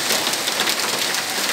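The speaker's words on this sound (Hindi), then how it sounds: "आप पीछे बैकग्राउंड में देख भी रहे होंगे कितना तेज़ बारिश हो रही है और कितनी तेज़ ओले गिर रहे हैं।" Heavy rain mixed with hail pounding down outdoors in Delhi, a loud continuous roar of drops and pellets striking surfaces with no voices over it.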